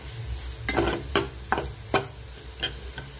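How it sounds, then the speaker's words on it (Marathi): Spice masala with Kashmiri red chili powder cooking in oil, about six distinct, fairly loud scrapes of a spatula spaced roughly half a second apart over a soft sizzle. "हा मसाला छान तेलामध्ये शिजू द्यायचा"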